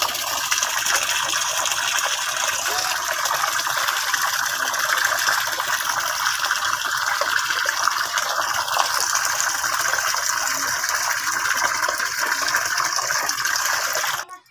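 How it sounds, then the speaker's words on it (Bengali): Water runs steadily from a tap while rohu fish are washed, a loud continuous gushing splash that stops abruptly at the end. "এবার আমি রুই মাছ কটা ধুয়ে নিচ্ছি।"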